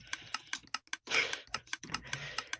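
Rapid clicking of a computer keyboard being typed on, heard close to the microphone in irregular bursts and fairly quiet overall, with no talking.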